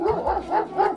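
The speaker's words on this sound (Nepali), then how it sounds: "कुकुरको भुकाई बेला बेलामा सुनिन्थ्यो" A dog barks at night, three quick barks fairly close by, packed into about a second with no other sound around them.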